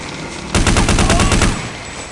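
Gunfire in Counter-Strike: Condition Zero, a single loud, close burst of rapid, evenly spaced shots lasting about a second over a steady background hum.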